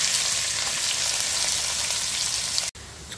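Onions fry in hot oil with whole spices like mace, green cardamom and cloves for chicken yakhni pulao, a steady close hiss of sizzling that cuts off sharply near the end, then resumes more quietly.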